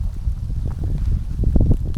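Autumn wind gusts loudly across the microphone beside Hullvann Lake in Norway, a rough continuous low rumble that swells and buffets, with no voices.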